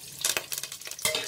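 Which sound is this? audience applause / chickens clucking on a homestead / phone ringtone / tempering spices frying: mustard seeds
tempering spices frying: mustard seeds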